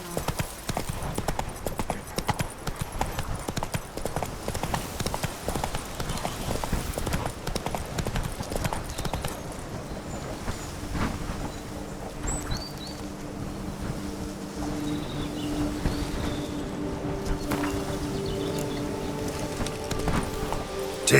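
Horse hooves clip-clop steadily in The Witcher 3, a continuous rhythmic trot with wind rushing over it, close and fairly loud, easing later into a calmer ambient stretch with faint tones.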